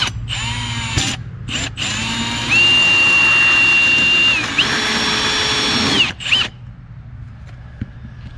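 A power drill runs in reverse while a service tech installs an air conditioning condenser, giving a close, steady whine in several bursts with a pitch shift midway and brief stops between runs.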